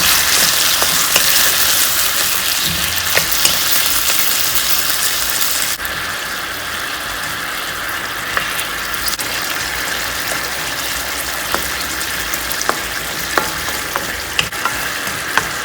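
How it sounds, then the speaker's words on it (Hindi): Chicken stir-fries in a pan. A loud, steady, close sizzling hiss continues throughout, dropping somewhat in level partway through, with occasional sharp clicks of tossing and stirring. "बस इसको 40 सेकेंड भूनने के बाद हम इसके अंदर सॉस ऐड कर देते हैं।"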